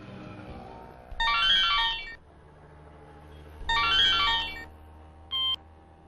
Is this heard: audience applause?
no